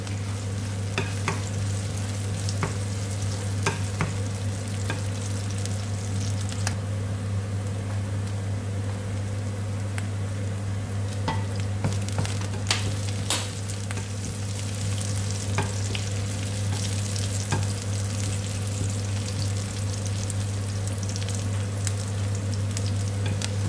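Garlic sizzles steadily in a hot pan while a utensil stirs it, with sharp scraping clicks breaking through a constant frying hiss, close and continuous with no talking.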